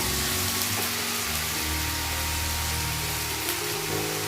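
Coconut chutney with jaggery and salt sautés in a pan, giving a loud, dense, continuous sizzle with faint stirring underneath throughout.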